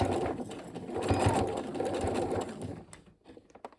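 A sewing machine back stitching and then sewing forward on a fabric pencil case, a close steady motor whir with rapid needle clatter that slows and stops near the end.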